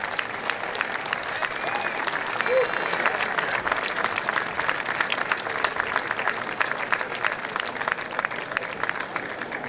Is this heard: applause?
yes